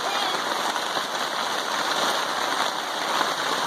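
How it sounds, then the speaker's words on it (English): Heavy rain pours down at a flooding campsite, a constant, dense hiss of falling water that stays even and unbroken throughout. "Ooh, here comes a lot of rain"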